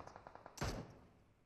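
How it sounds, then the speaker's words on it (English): A single loud gunshot bursts out in the PUBG Mobile battle royale game, preceded by a faint rapid rattle of distant fire, then a short decaying boom. "I'm shooting at someone at 85"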